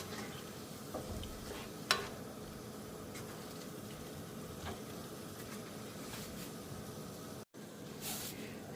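Chicken broth mixture stirred in a pan, a faint soft scraping and light simmer with one brief clink near the start.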